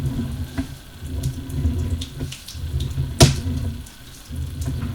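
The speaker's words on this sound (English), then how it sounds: "Here we have expected water characteristics that we'd want to see. Just a moderate stream of water on the bottom of the piping." A moderate stream of water flows along the bottom of a condo sewer pipe, a close, continuous trickling and gurgling with soft irregular splashes and one sharper knock near the middle.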